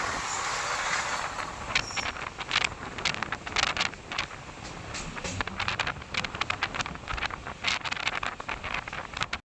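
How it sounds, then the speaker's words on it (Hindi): The Rajdhani Express rushes past on an adjacent Indian railway track while heard from inside a moving train: a steady roar with rapid rhythmic clatter of wheels over rail joints and wind noise throughout, close and loud, with no talking. "और पीछे से आ रही है राजधानी एक्सप्रेस, पैदल ओवरटेक करने।"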